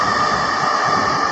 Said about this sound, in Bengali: মেট্রো রেলটা আসছে, আসলে দেখার মতন